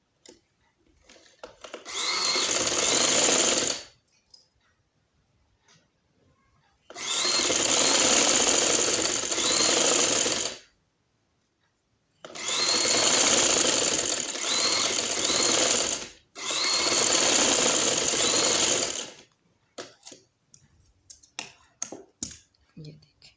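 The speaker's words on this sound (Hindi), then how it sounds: "अब जो हमने सिलाई लगाई है उसी के ऊपर हम सिलाई लगाएंगे।" A sewing machine stitches over an existing seam on winter trousers in four sustained whirring runs separated by pauses, loud and close, with soft handling clicks between bursts.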